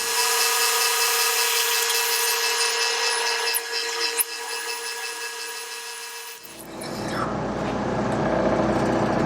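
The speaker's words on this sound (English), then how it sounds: "Let's go ahead and drill it." A Jet turret mill drills a 5/8 inch hole through metal with oil, a steady loud motor whine with tonal hum, then the cutting sound shifts to a rougher broadband grind as the bit works through.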